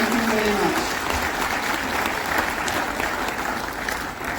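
An audience applauds after a presentation, a thick, continuous roar of clapping that stays loud and even, with a voice speaking briefly beneath it at the start.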